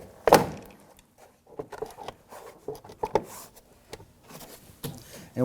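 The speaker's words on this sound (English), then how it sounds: "gently tug outward, separating the plastic push pins around the perimeter" Plastic push pins pop loose one after another as a front door panel is pried from a 2008-2011 Ford Focus, giving scattered sharp clicks and rustling knocks over several seconds, close and fairly quiet.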